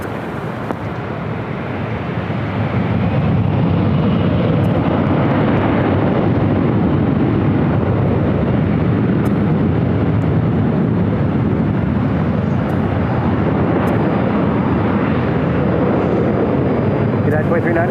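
An airliner powers up for takeoff from runway 24 left at LAX, a broad jet roar rising after a couple of seconds and holding loud and steady, heard from a distance with radio voices over it.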